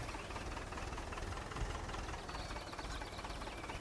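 Tractor engine idling in the Farming Simulator 2013 video game: a steady, dense rumble runs unbroken throughout at an even level, with no voices.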